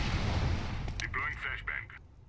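A grenade explodes in Counter-Strike: Global Offensive with a loud, rumbling blast. The roar fades as clipped radio-style voice chatter comes in over it.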